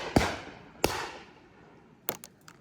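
Shotgun shots at an outdoor spring clay shooting day, two sharp close blasts about a second apart, then a quieter pair of distant reports, with nothing else in between.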